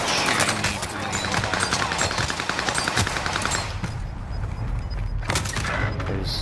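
Heavy automatic gunfire in the battle royale game Call of Duty Warzone, dense rapid shots with booms mixed in, loud throughout, while a player talks over the shooting.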